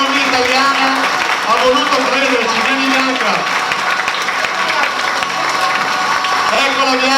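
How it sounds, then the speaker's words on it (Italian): Audience applause at a fashion show, a steady dense wash of clapping that fills the whole stretch, with music and voices mixed in underneath. "voglio sulla passerella, per un applauso vostro, Bianca Marini"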